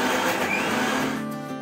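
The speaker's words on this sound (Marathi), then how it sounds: "आपण मिक्सरच्या भांड्यामध्ये आपण हे किसलेलं खोबरं टाकूया आणि ते आपण मिक्सरला लावून घेऊ" A kitchen mixer grinder whirs as it grinds grated coconut for coconut milk, a short loud motor drone that fades slightly toward the end.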